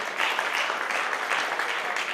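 An audience claps in welcome at a farewell ceremony, a steady wash of many hands that holds fairly even and moderately loud throughout, with no talk over it.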